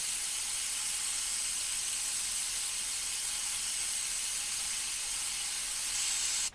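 An airbrush sprays paint onto a 1/10 scale RC car body shell at low pressure, making a continuous close hiss that holds steady and then cuts off abruptly.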